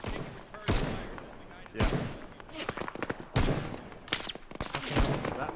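Machine gun fire in the Arma 3 video game, sharp bursts of shots crackling near and far amid a chaotic battle, with a voice briefly speaking over it.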